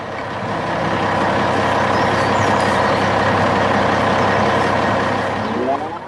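Green truck pulling away in a 3D construction animation, a steady, loud engine rumble that holds at full level for several seconds, then eases off at the end, with no talking.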